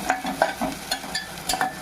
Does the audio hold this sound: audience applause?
no